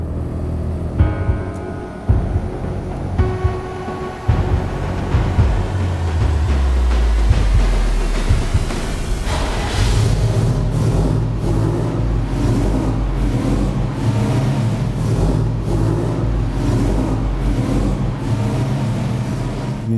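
Restored 1924 Mercedes Targa Florio racing car engine cranking and firing up, then settling into a loud, close, rough running roar with pulsing idle, alone without talk.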